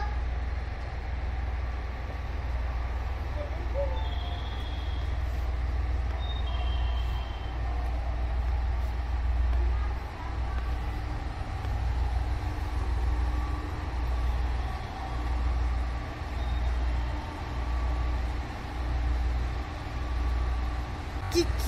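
A Russell-type snowplow train moves at Yonago Station, a low steady rumble of the engine with a faint rolling rhythm and occasional distant squeals, heard from a platform at some distance.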